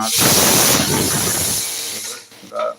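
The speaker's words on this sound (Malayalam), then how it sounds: "ഇത് നമ്മളെ കുക്കറിന് വരുന്ന സൗണ്ടാണ് കേട്ടോ" A pressure cooker cooking chickpea payasam hisses loudly with a sharp jet of steam that fades out, followed by a short clank and a brief voice.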